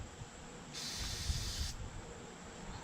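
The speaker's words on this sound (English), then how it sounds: "Shake this up." A single short hiss of spray from an aerosol paint can onto a rag, about a second long, close by against quiet background noise.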